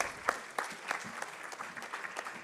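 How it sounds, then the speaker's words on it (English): Applause from a conference audience honouring the debaters, a steady spread of hand claps with sharper accented bursts roughly every third of a second, moderately close and without talk. "one last round of applause for our"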